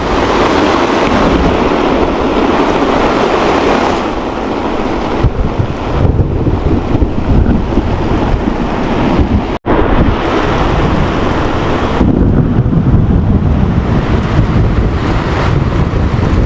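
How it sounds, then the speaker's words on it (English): Thunderstorm over a backcountry lake in Temagami during a canoe trip, with wind and heavy rain: a loud, steady roar of wind and downpour buffeting the microphone throughout, no talk. "First storm I've ever rode out in the backcountry in a canoe anyway."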